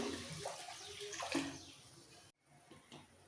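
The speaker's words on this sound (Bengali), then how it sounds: "জল এক কাপ মতো জল দেব বেশি জল দেব না" A cup of water splashes and pours into curry gravy in a pot, a brief watery gush followed by quieter trickling and a short gap.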